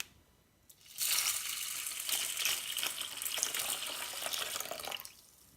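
Water runs from a kitchen tap into a bowl of dried beans for soaking, starting suddenly after a brief quiet, pouring steadily and close for about four seconds, then stopping.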